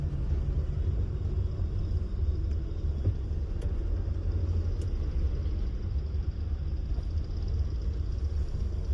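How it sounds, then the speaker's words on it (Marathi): Heavy road traffic bound for Mumbai near Karjat, heard as a steady, dense low rumble of passing vehicles with no distinct individual horn or engine standing out. "मुंबईला जाणाऱ्या गाड्यांना भरपूर ट्रॅफिक आहे."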